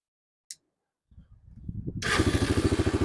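A Honda TRX300EX ATV engine cranks over briefly after a small click, then catches and settles into a steady, close, throbbing idle with a rhythmic single-cylinder pulse.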